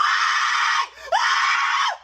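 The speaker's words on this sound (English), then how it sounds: "someone who literally screams in Walmarts for a living" A person screams inside a Walmart store: two long, loud, piercing shrieks split by a brief pause, close and alone with no other voices.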